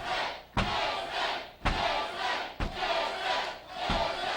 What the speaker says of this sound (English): I wonder what side the crowd's on.